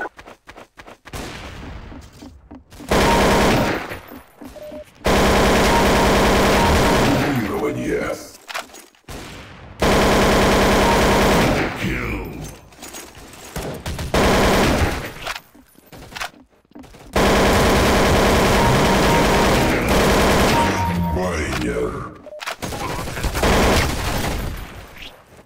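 Automatic-weapon fire in the Counter-Strike: Source game comes in several long, loud bursts of rapid shots separated by short pauses, with brief game voice lines between the volleys.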